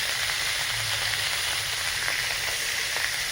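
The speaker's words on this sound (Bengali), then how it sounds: "মাছগুলো নুন আর হলুদ মাখিয়ে নিয়েছি, তারপরে ভেজে নিচ্ছি" Hilsa fish pieces rubbed with salt and turmeric fry in hot oil, giving a dense, steady sizzle with faint pops and crackles throughout. The sound is close and continuous, with no talking.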